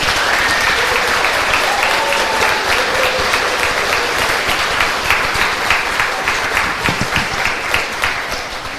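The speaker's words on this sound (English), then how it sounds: "Please give them a round of applause." Sustained applause from an audience at a 5th grade school promotion ceremony, steady and dense throughout with a slight taper near the end, filling the hall with many hands clapping.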